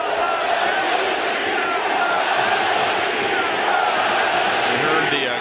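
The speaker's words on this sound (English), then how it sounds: "We heard the crowd go silent and now getting very loud at the Coliseum." Baseball crowd at the Oakland Coliseum building into a loud, sustained roar, dense and continuous throughout, with a voice talking faintly underneath.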